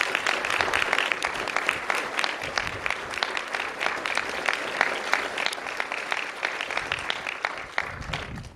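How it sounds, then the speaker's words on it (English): An audience at the Flight 93 September 11 remembrance ceremony in Shanksville, Pennsylvania, applauds the first responders and recovery workers, with sustained, even clapping from a large crowd heard at a moderate distance. "let's give them all a round of applause."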